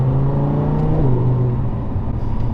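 An Audi R8 V10 supercar engine revs loudly and close up, its deep steady note rising and then easing back over a rumbling idle.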